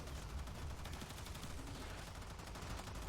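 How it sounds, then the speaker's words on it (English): Controlled bursts of gunfire in the video game Warframe form a dense, continuous crackle of rapid shots, steady and fairly faint throughout with no pauses. "I was just doing controlled firing there"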